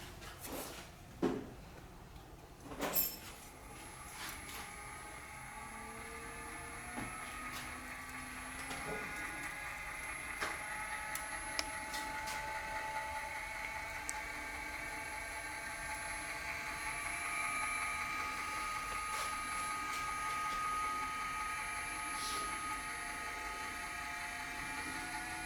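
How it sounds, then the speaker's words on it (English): A bead roller fitted with a sharp-edged tipping wheel forms a sheet-metal wheel arch in an automotive fabrication shop. A few sharp metallic knocks come first, then a steady, fairly quiet whirring and rolling hum continues. "Now I'll move over to our bead roller. This is a tipping wheel, nice sharp edges,"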